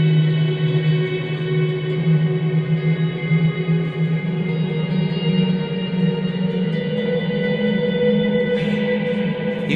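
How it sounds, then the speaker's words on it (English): Electric guitar intervals played through heavy reverb and heavy delay, sustained tones stacking into a dense, continuous wash of echoes that rings on without a break. "but just, again, heavy reverb, heavy delay, but just doing some intervals."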